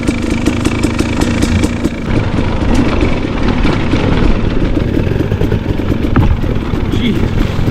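A KTM 300 dirt bike engine roars loud and close while riding single track, revving continuously with rough bursts, and a rider's voice comes through at times.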